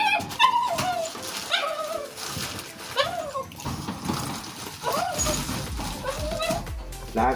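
A dog whimpers and whines in repeated high, rising cries close by, alongside a voice and some splashing water in the background.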